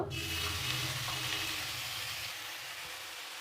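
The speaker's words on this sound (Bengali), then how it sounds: "আদাটা খুব ভালোভাবে ভাজা হয়ে গেছে এবার আমি একে একে সবজিগুলো দিয়ে দেব প্রথমে আলু দেব" Ginger and vegetables frying in a pan, giving a steady close hiss and sizzle that fades slightly toward the end, alone with no talk.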